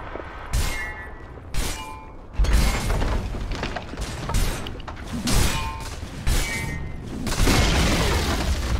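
Dota 2 match with a tower under attack: a steady wash of game combat, with repeated loud booming impacts and crashing hits at irregular intervals, several punchy bursts standing out over a dense rumbling bed.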